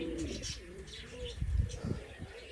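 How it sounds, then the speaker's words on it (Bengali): Pigeons in a village pigeon house, including one from Rajshahi, give soft repeated low coos close by, with a few faint chirps and a quiet background and no talking. "সে রাজশাহীর কবুতর এটা"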